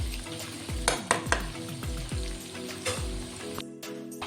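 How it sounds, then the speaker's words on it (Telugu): Chicken pieces frying in oil until golden for a pickle, with a continuous sizzle punctuated by a series of ringing metallic clanks of a utensil against the pot, close and fairly loud. "చికెన్ ఇందాక ఫ్రై చేస్తున్నాను చెప్పాను కండి, ఇలా ఎర్రగా గోల్డ్ కలర్లో వచ్చేటట్టు ఫ్రై చేసుకోవాలి."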